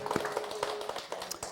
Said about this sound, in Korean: 우리 한번 주님께 영광의 박수 드리겠습니다